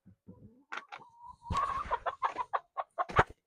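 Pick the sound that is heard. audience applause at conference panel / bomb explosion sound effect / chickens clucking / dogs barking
chickens clucking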